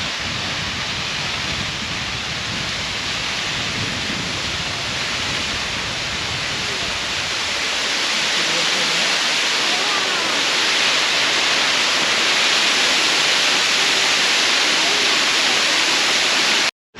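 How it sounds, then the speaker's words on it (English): A waterfall in a Queensland beach parkland pours in a steady, loud broadband rush, heard close and continuous, growing slightly stronger partway through before cutting off abruptly at the end. "We found the bottom of the waterfall."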